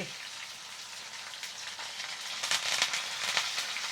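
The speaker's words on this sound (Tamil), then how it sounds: "கடுகு வடிக்கட்டுக்குமா பாருங்க இதில் கடுகு வடிக்குது" Hot oil sizzles steadily with mustard seeds popping and spluttering, the crackle growing denser and louder toward the end.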